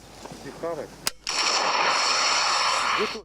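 A single sharp blast of an RPG grenade launcher firing during training, followed by a sustained loud rushing whoosh, with brief voices just before and after.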